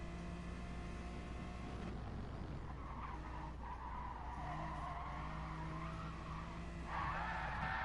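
Race car tires squeal and skid during hard late braking in Gran Turismo Sport, a sustained screech over a steady engine drone, swelling louder near the end.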